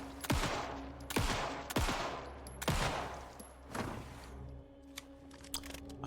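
Several loud, sharp gunshots ring out from a weapon in the survival horror video game Alan Wake II, spaced roughly a second apart, each with a booming tail, followed by quieter clicks and rustling.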